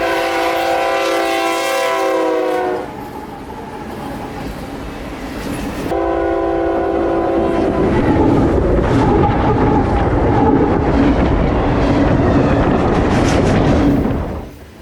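A CSX freight train hauling empty juice cars and a loaded covered hopper rushes southbound toward Bradenton, horn sounding loudly in long blasts, then wheels and cars roaring and rattling close by as it passes.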